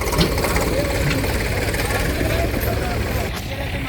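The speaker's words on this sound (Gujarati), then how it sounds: "બીજું ટ્રેક્ટર હવે આવે છે." A tractor engine chugs steadily and loud at a farm where silage fodder is being chopped by a chaff cutter, a continuous close rumble with a voice talking faintly underneath.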